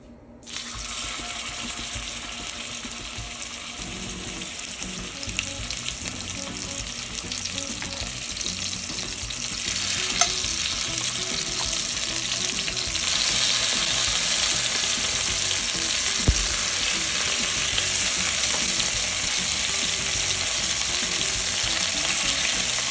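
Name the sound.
chuck roast searing in a pan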